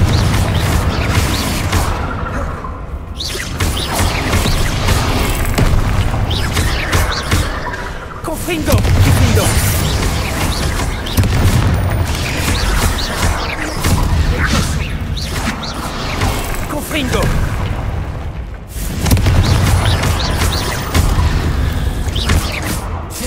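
Rapid Confringo fire spell blasts in the video game Hogwarts Legacy, a dense run of loud booming explosions that burst again and again across the fight, layered with other combat noise.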